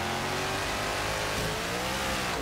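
Engine of a car with a displacement over 7 litres revving in the Forza Horizon 3 racing game, a steady loud drone rising slightly in pitch throughout, heard alone without voices.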